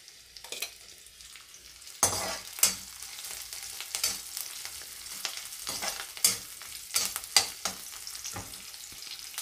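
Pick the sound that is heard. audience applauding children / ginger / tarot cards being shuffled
ginger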